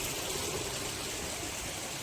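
Mountain stream water rushing steadily near the summit of Gunung Jerai, a dense, continuous hiss and gurgle that stays loud and unbroken throughout with no voices.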